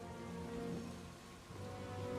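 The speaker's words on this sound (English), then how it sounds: "It's raining blood." Blood rain falls in a Diablo video game as a steady, faint hiss of rainfall with a low continuous drone underneath.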